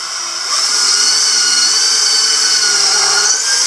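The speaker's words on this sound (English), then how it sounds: "I'm going to put a screw through here as well." Power drill driving a long 4-inch screw into wood for a simple front door entry awning, a steady high-pitched whir running nearly continuously and loud at close range.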